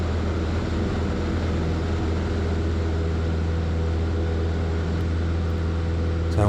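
A light aircraft engine drones at a steady, loud pitch through a stable 70-knot climb out from a runway during circuit practice, with a constant cabin hum and no break.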